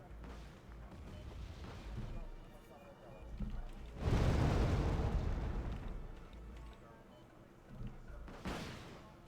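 Artillery fire in the modern-warfare strategy game Wargame: AirLand Battle, a series of deep booming blasts with one heavy rumbling impact in the middle and another near the end, heard over background game noise and a commentator's voice.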